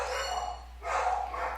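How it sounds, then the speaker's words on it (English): Dogs bark in two rough bursts, fairly close, one right after the other with a short dip between. "apologies for the dogs barking."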